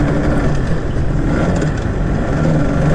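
A vintage Yamaha TZR250 3MA two-stroke motorcycle engine hums and buzzes under light throttle, a steady, close, dense drone with small rises in pitch and no pauses.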